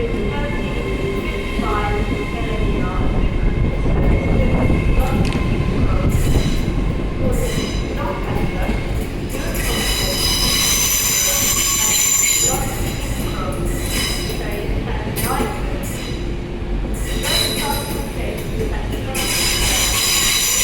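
Train departing York toward Colgate sidings, wheels squealing loudly and steadily over continuous rumble and clatter of rolling stock close by.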